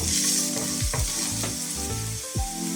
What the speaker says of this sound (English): Let's saute the garlic till lightly brown.